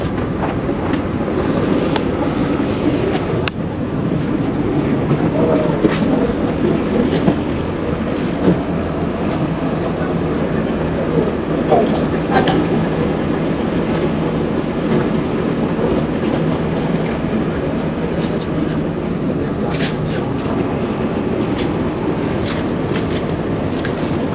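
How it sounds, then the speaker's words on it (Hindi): A train rumbles through a railway station in Bosnia, a continuous loud rolling roar with faint rhythmic clatter of wheels, steady and close throughout without voices. "तो ये है वही स्टेशन।"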